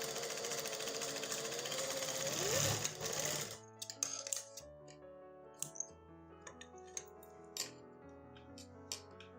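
A sewing machine runs steadily for about three seconds as it stitches right along the edge of trouser fabric, then stops, followed by scattered light clicks and taps of handling the fabric and machine.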